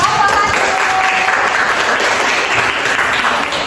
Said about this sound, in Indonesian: berikan aplaus yang mulia kepada